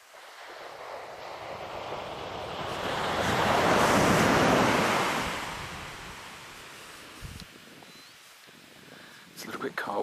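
Ocean surf washes onto the beach at Swansea on Tasmania's east coast, swelling to a broad roar midway and then receding, with wind buffeting the microphone throughout.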